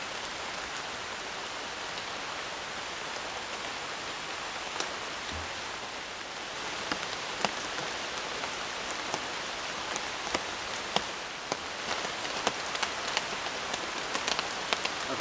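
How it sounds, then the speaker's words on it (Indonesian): Steady rain falls at night on a forest campsite, a dense continuous patter with sharper individual drops ticking and tapping more often toward the end, with no voices. "Dari sore sampai sekarang malam hujannya masih turun ya."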